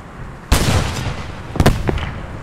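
Anti-tank gun in Post Scriptum fires a heavy booming shot, followed about a second later by a second sharp blast and a rumbling tail, loud and close.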